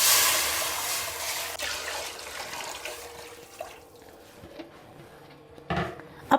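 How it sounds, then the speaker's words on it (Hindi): Yakhni stock pours into a pan holding minced garlic and chopped green chilies for Schezwan soup, a steady liquid rush that tapers off into faint sizzling and a few small clinks. "अब इसमें हम डालेंगे यखनी"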